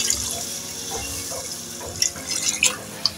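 Water from a glass is poured into cooking masala for a kofta curry in a pan. A soft, fairly quiet pouring and splashing is heard, with a few sharper sizzling spatters near the end and no talking.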